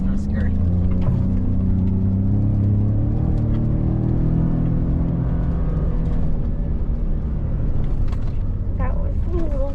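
Ford Raptor off-road truck ploughing through a muddy rut on a Texplex track lap: a continuous loud rumbling engine with creaks and clunks from the chassis, heard close throughout.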